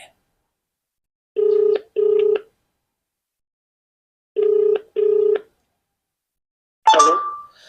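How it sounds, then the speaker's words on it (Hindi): A telephone ringback tone sounds in two double pulses separated by silence, clear and steady, followed by a brief click as the line connects to a police station. "आप देख सकते हैं घंटी जा रही है।"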